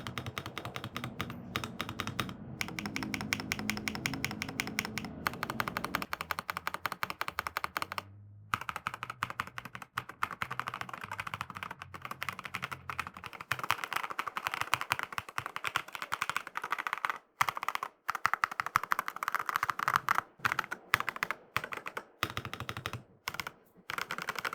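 Fast, continuous typing on a Redragon Eisa Max K686 mechanical keyboard, with dense rapid clacks and occasional brief pauses, heard close up and fairly quiet with no talking.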